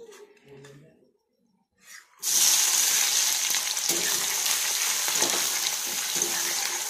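Onions and peas for a spicy pasta hit hot oil after a near-silent start, bursting into a loud, steady close sizzle that crackles on without pause.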